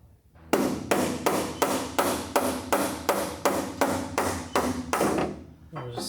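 A plastic hammer taps a powder-coated sway bar into its bushings on a Factory Five GTM kit car, about a dozen sharp, evenly spaced blows ringing out loud and close.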